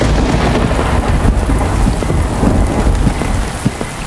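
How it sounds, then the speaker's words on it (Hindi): Heavy rain pours steadily while deep thunder rumbles continuously underneath, a dense, close downpour throughout the stormy night. "तेज बिजली की गड़गड़ाहट के साथ बारिश और तेज हो गई।"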